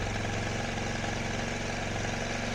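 A Ducati 749 motorcycle engine held at fast idle, a steady, loud, close, even throb with a regular pulsing beat and no change in pace.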